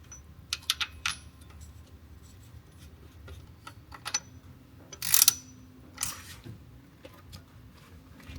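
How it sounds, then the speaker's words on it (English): New idler pulley being fitted to a car engine, heard as scattered metallic clicks, taps and ratchet-like clatter of parts and tools, with a louder clink midway. "Just going to install this new idler pulley and see if the belt tension stays good"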